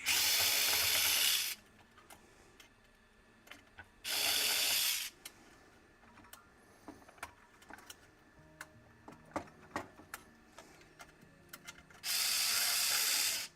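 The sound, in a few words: screws being removed with a power drill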